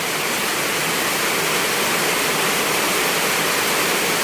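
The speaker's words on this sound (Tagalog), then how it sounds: "Siguro puno yung kanal. Oh, bumalik yung tubig dito sa amin" Steady, loud rush of floodwater flowing into a house during heavy rain fills the whole clip, a continuous broadband wash with no pauses and no voices.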